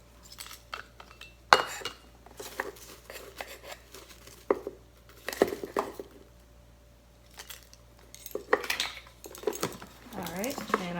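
A tablespoon measures freeze-dried celery into a jar, giving scattered light clinks and rustles of metal and glass close by, with quiet gaps between the knocks.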